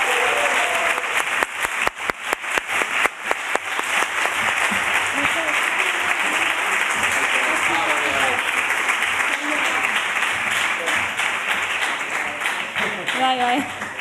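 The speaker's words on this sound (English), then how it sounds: "A big round of applause for them," Audience applause for prize-winning filmmakers at an awards event, starting with scattered claps that quickly build into steady, dense clapping from a large crowd, with some voices underneath.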